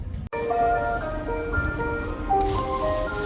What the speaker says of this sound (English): Now the van heads to Chacaltaya.